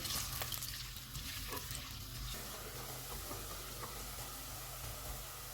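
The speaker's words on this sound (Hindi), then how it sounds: "ऑयल गर्म हो गया, इसमें प्याज डालेंगे। इनको गोल्डन फ्राई करेंगे।" Onions frying until golden in hot oil inside a clay pot (matka) for biryani, giving a soft, steady hiss of sizzling that stays faint and even throughout, with no talking.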